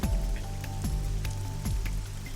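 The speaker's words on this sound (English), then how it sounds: "A parasol is getting pelted by the rain." Rain pelting a parasol in AI: The Somnium Files video game, a steady patter of drops on fabric with periodic dull thumps and a constant low background drone.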